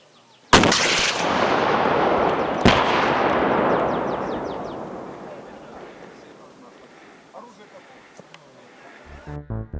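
Two sharp small-arms gunshots crack loudly outdoors during military shooting training, each leaving a long rolling echo that fades, followed by a few faint clicks and knocks near the end.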